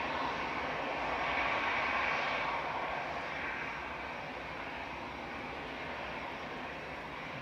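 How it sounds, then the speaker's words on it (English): An Iberia Airbus A320-200 arrives from Madrid at Manchester Airport, its jet engines a steady, broad roar heard from a distance that swells slightly and then settles into a sustained whine. "Iberia coming in from Madrid, ECJFG, Airbus A320-200 with flight 1891."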